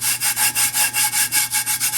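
Material is rubbed firmly by hand onto a tumbler in quick, regular back-and-forth strokes, about a dozen in two seconds. The scratchy swishes are loud and close, with an even sawing rhythm.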